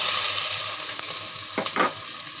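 Chicken for a spicy chicken soup sizzles and fries in a pot, a steady hiss with a few louder bursts of sputtering as it is stirred.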